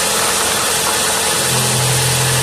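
Engine of a car that has been sitting, idling loud and close during an inspection, a steady rumbling hum with a low tone settling in halfway through.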